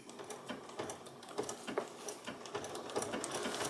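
Sewing machine stitching a chicken applique with a longer stitch length, a continuous rapid ticking rhythm, close but faint, with no talk.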